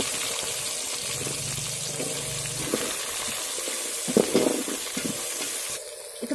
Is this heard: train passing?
no